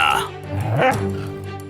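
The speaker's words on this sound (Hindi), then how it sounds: "ये डॉगी कहाँ से आ गया?" A cartoon dog gives short yipping barks, close and clear, overlapping with brief talk.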